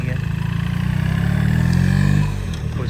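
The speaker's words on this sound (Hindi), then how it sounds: "तो बाइकर्स भी यहाँ पे आपको नज़र आते हैं" A motorcycle passes on a road in an Australian suburb, its engine droning steadily, rising in pitch and loudness before fading as it moves away.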